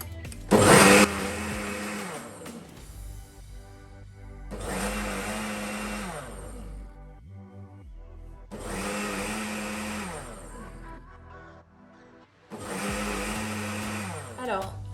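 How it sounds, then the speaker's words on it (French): A kitchen blender whirs as it purees ingredients for a green sauce in a vegetarian tofu recipe, running in four loud bursts of a few seconds each, separated by short pauses. "J'ai commencé à mixer tout l'ensemble des ingrédients."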